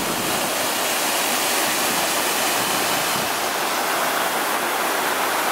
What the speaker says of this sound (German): Wir sind jetzt hier mitten in die Wasserfällen.